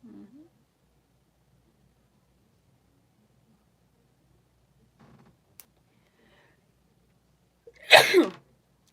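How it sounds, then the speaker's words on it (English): A single sharp sneeze bursts out near the end, loud and close, after mostly quiet room tone with a few faint rustles and a brief click. "I'm sneezing."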